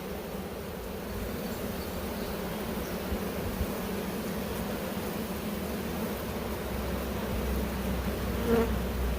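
A honeybee swarm drones in a dense, steady buzz during a swarm removal in Uxbridge, Massachusetts, close and continuous throughout without a break.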